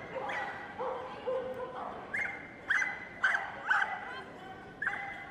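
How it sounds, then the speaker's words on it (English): Finn the dog yips and barks repeatedly while running an agility jumping course at the Crufts 2017 British Open final, several short high barks at a moderate distance under steady commentary and arena murmur. "Likes to have a bit of a bark as we go around."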